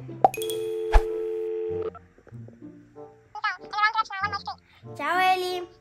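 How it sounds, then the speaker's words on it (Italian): A phone call begins with a steady ringing or dial tone and beeps, then gives way to voices talking, including a child's, over the line. "Chiamiamo Elisabetta"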